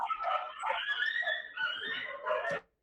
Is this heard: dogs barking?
yes